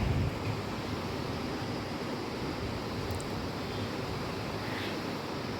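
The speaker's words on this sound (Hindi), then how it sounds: "तो ये देखिए, बहुत तेज़ हवाएं चल रही हैं" Continuous loud, roaring wind buffets the microphone with a steady broadband rush and no voices.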